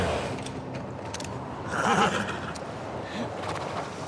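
A horse whinnies in the middle in the video game The Last of Us Part II Remastered, a shaky neigh rising over a steady background of ambient noise.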